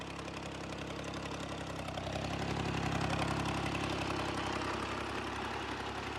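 A tractor engine runs steadily while spraying a pomegranate orchard after heavy rain, a constant mid-low drone that swells slightly in the middle and stays even throughout.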